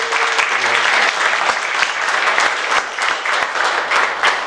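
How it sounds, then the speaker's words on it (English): Audience applause at a district town hall meeting in Camp Nelson, a steady dense wash of many hands clapping close by, holding loud and even for the whole stretch with no voices over it. "Brian Duffy and Derek Vanderstoel, give them a great round of applause."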